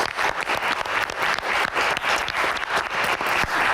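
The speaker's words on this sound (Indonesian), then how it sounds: "Tepuk tangan." Dense, steady applause from a seated audience at a Q&A event with two Indonesian Air Force pilots, loud and close, filling the whole stretch with continuous clapping and no talk on top.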